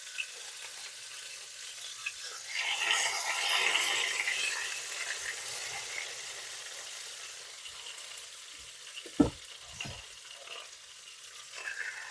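Sticky pork ribs browning in a hot pan give a steady, soft sizzle that swells for a moment and then settles, with a few brief utensil clicks toward the end.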